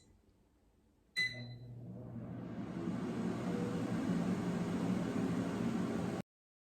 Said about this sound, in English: Now let's put the basket in the air fryer.